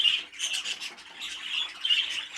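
A caged cinnamon opaline bird squawks and scrabbles close by, with rough rasping calls in quick bursts alongside scratchy rustling and no talking.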